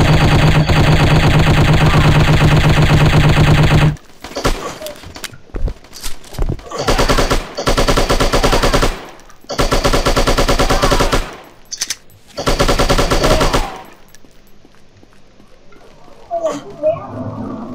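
Machine gun fire in the shooting video game Striker, long sustained automatic bursts broken by short gaps, loud and close, with a voice briefly heard near the end.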